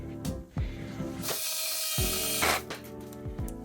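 A jigsaw cuts interior trim material in short bursts, with a loud buzzing, rattling blade stroke. A brief pause comes between the runs, and the motor starts and stops abruptly.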